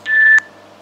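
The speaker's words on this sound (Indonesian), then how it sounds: "Cuman bunyi tit gitu doang ya." A Colmi C8 Max smartwatch sounds its find-device alarm: one short, clear, high electronic beep lasting about a third of a second, close and loud, then a quiet tail of room noise.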